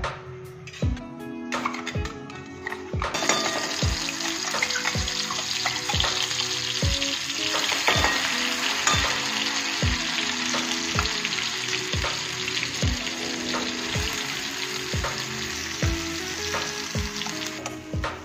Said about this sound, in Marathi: कढईत पुन्हा 2 चमचे तेल घालायचे आणि मसाला तेल सुटेपर्यंत भाजायचा